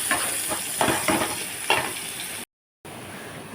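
Chopped onion frying in a pan: a close sizzle broken by several stirring scrapes, then a brief total drop-out before a softer hiss resumes.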